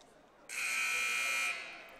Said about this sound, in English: So that is the buzzer.